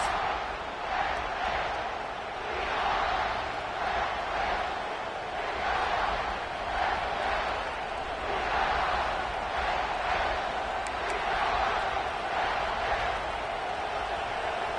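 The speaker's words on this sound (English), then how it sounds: "This crowd, full throat, spreading the eardrums and letting them know it's going to be a long day" A football stadium crowd roars in a sustained, dense wash of voices that swells in waves across the whole stretch, loud and continuous without a break.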